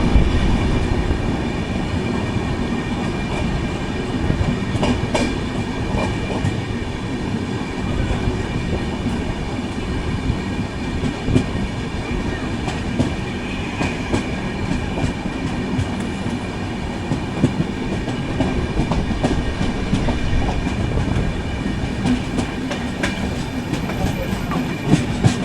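The 12077 Jan Shatabdi Express runs from Chennai Central toward Vijayawada, heard from inside an AC chair car as a continuous rumble of wheels on rail with regular clicks and rattles.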